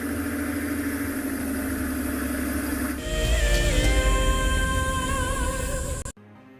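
Engine of a safari vehicle at Tswalu idling with a low, steady rumble, then shifting to a rougher, louder throb with whining tones before cutting off abruptly near the end.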